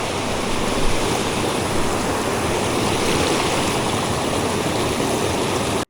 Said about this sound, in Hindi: जंगल के बीच अचानक से ये रिवर क्रॉसिंग आ गई।